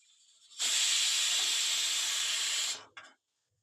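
A pressure cooker whistle lets out a loud, steady hiss of steam for about two seconds before cutting off, followed by a short final puff.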